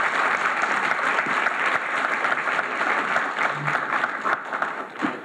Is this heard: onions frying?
no